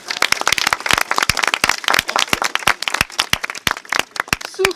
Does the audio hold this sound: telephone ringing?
no